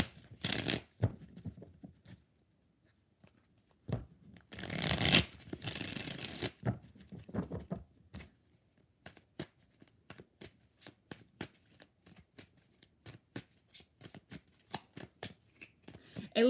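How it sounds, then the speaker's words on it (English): Tarot cards shuffled in bursts of riffling and flicking, with a long dense riffle near the middle and a string of crisp individual card snaps afterward, close and fairly loud, no talking. "2 more shuffles"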